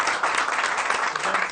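Studio audience at a live television music show applauds, a dense, even crackle of many hands clapping at once, fairly loud and unbroken.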